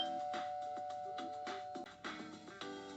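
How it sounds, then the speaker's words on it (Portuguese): An intercom doorbell chimes in a series of repeated electronic ding-dong tones, clear and fairly quiet, with no voices. "Então aqui a campainha"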